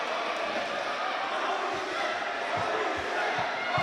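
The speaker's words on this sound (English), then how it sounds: "You can hear them there going, remarkable, remarkable." Wrestling crowd at the AWA Coca-Cola Rumble 2024 event, a loud continuous roar of many voices with rhythmic chant-like pulses and thumps building toward the end, filling the space close around.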